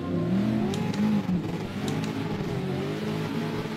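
Subaru BRZ engine revving in the CarX drift racing video game, rising and falling pitch through gear changes, moderately loud and continuous over a few seconds.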